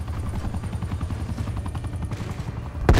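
Helicopter in the multiplayer shooter Call of Duty: Black Ops Cold War, a loud, close, rapid rotor chop thumping steadily throughout, ending with a sharp burst that sounds like a gunshot.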